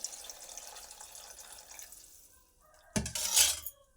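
Water poured into a pot of rice for tomato rice, a short splashing gush arriving after a quiet stretch and ending abruptly, close and fairly loud.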